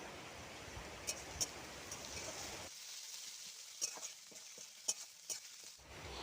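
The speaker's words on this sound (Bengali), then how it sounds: "পেঁয়াজ ভাজার মধ্যে নুনটা দিয়ে নেড়ে নেবো" A spoon scrapes and stirs through frying onions with salt added in a pan, with a few sharp metallic taps; the frying hiss drops off midway, leaving scattered stirring clicks.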